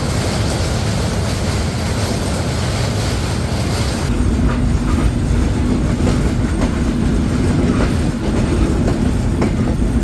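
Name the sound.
train arriving at station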